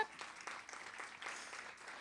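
Faint, distant applause from an audience for a modified soccer team, a steady patter of clapping in a large room, brief and low in level.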